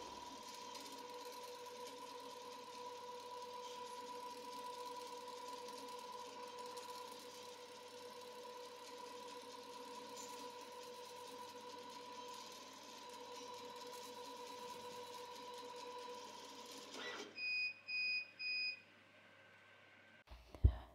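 A laser engraver with air assist works on leather, giving a steady, quiet mechanical hum with faint tones. Near the end the hum stops and a few short electronic beeps follow.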